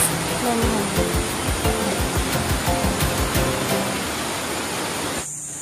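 Rushing roar of the waterfall at Wawa Dam, loud and close, a dense steady wash with a faint rhythmic thumping beneath and a voice briefly in the mix before it drops off at the end.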